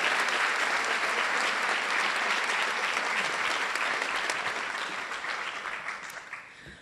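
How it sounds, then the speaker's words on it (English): Audience applause for grant recipients at a school rally: a sustained, fairly distant roar of many hands clapping that holds steady, then slowly fades out toward the end. "How about a big round of applause for all of our grant recipients in this category?"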